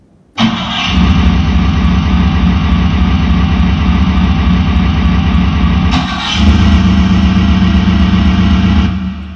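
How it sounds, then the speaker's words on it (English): A car engine sound effect played on a Roland G-70 keyboard. It starts abruptly and settles into a loud, steady rumbling idle, then briefly dips and is restarted around the six-second mark before carrying on. "Car engine."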